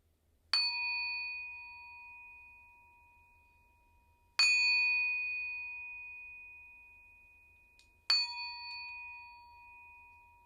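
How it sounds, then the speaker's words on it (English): A singing bowl is struck three times, each strike ringing out with a clear, sustained metallic tone that slowly fades before the next, in quiet surroundings. "I'm going to go ahead and ring this bell,"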